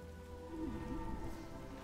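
Rain weather effect in the real-time strategy game Battle for Middle-earth, a steady soft patter of rainfall running continuously under layered game ambience and low tonal music.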